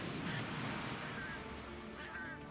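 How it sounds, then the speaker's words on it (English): In Monster Hunter Generations Ultimate, a monster fires a high-pressure water beam, heard as a continuous loud rushing gush with faint whistling tones drifting over it and no break throughout. "He's just doing a high pressure water beam."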